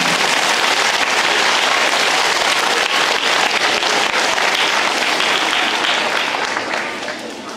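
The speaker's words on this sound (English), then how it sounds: "Let's give them another round of applause." Dense, loud applause rises from an audience at a Veterans Day ceremony, a thick sustained roar of clapping that holds steady before easing off near the end.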